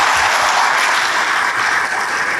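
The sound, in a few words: congregation applause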